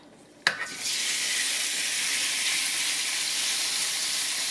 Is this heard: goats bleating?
no